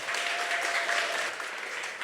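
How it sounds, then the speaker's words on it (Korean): An audience at an art school open class gives a short burst of steady applause for four artists, full and continuous for about two seconds, with no voices on top. "네 분 작가님께 큰 박수 좀 보내주시기 바랍니다."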